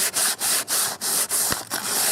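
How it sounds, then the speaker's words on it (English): Sandpaper scrubs old finish off a Bahco axe in quick back-and-forth strokes, about seven rhythmic hissing passes with brief gaps between them, close and fairly loud. "Sand that spot right there for a second."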